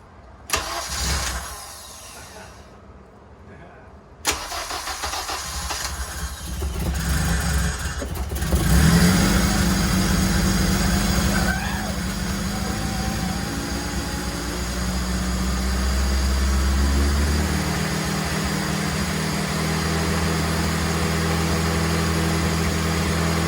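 A K-swapped 1992 Honda Civic VX hatchback starts for the first time. Faint clicks come first, then the starter cranks and the engine catches, revs up loudly and settles into a steady, rough idle close by.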